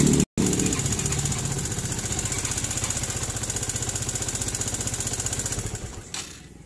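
Suzuki Thunder 125 motorcycle engine running at idle, a loud close chugging rhythm that starts right after a brief dropout and then cuts off near the end.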